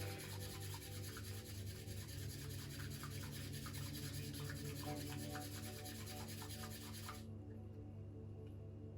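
Matcha tea whisked briskly back and forth in a bowl: a steady, close, scratchy swishing that runs unbroken for about seven seconds and then stops abruptly.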